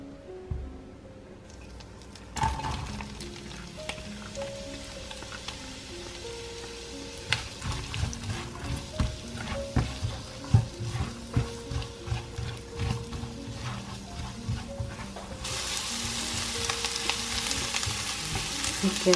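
Spices are sautéed in butter for a homemade chicken curry, giving a steady close-up sizzle and frying crackle with scattered stirring clinks throughout, no voices.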